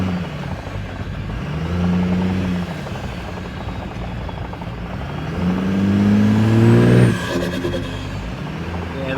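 A Cummins-engined Nissan Patrol 4x4 idles close by, a steady diesel drone with a couple of brief rising revs and a hiss near the end, no talk.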